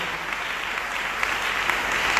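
A church congregation at a Sunday worship service claps steadily. The applause is dense, continuous and fairly loud.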